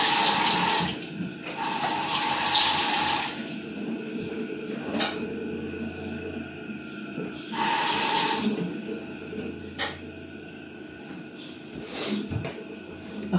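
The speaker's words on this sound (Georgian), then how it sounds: "ამაში გადის წყალი რა და ხმა ისმის" Tap water pours into a kitchen pot in bursts, loud splashing hiss for a few seconds, then quieter gaps with small clinks and knocks.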